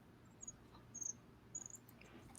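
Faint crickets chirp in a few short bursts against a quiet room hum, sounding distant and soft with no talking over them.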